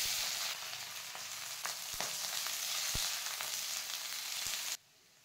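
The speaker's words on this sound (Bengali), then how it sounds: "এবার তেলের মধ্যে শুকনো লঙ্কা দিয়ে গোটা গরম মশলা দিয়ে পেঁয়াজগুলো ভেজে নেব" Sliced onions fry in hot oil with dried red chillies and whole garam masala for mutton kosha, giving a steady, close sizzle with a few sharp spatula taps on the pan before it cuts off suddenly.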